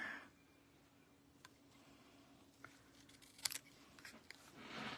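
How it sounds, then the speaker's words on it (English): Scissors snip off leftover DSP fabric in a quiet room, a few sparse, sharp cuts spread across the moment, faint and close with soft rustling between them and no talking. "And then we can just cut off this extra here."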